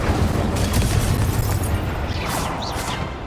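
A fire spell cast in a Hogwarts wizarding video game: a dense, continuous whooshing roar of flame with low rumbling bursts, loud and close throughout.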